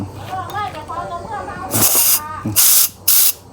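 Gas from a helium tank for sky balloons hisses out in three loud, steady bursts with short gaps between them, after someone speaks close by.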